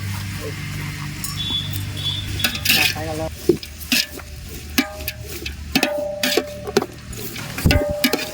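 Onions frying in a pot for biryani, with sizzling under repeated stirring and clinks of a spoon against the pot, close and steady with no talk.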